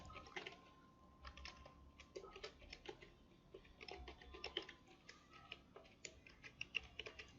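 Fingers typing on a computer keyboard, a steady run of light, quick key clicks at an even pace, faint and close, with no voices.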